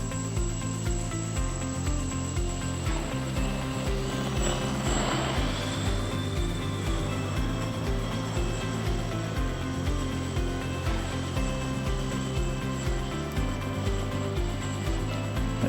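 An RC Factory Clik 25 model airplane flies indoors just under half throttle, its small electric motor and propeller giving a steady, loud whine that shifts pitch through a turn, with no talking.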